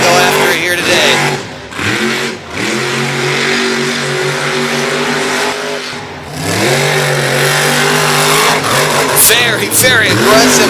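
An Avenger monster truck cuts a donut on a dirt track at a freestyle event, its engine roaring loud and close, dipping and surging through repeated revs while an announcer talks over it.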